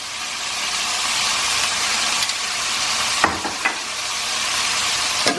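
Soba noodles sizzle in a hot pan with broccoli and hazelnuts, a loud steady hiss of frying broken by a few clacks and scrapes of stirring, close and without talk.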